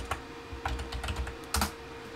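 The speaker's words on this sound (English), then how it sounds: "So we're just going to type in Sam Edelman." Soft, close keystrokes on a computer keyboard tap out a short burst of typing, with an irregular rhythm and a brief flurry near the end.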